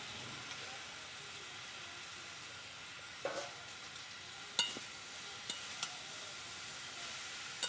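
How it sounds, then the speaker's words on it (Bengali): Mixed vegetables with potato and drumstick fry in a pan in a village kitchen, a faint continuous hiss of sizzling broken by several soft clicks and scrapes of stirring, no talk. "সবজিগুলো ভাজা ভাজা হয়ে আসছে।"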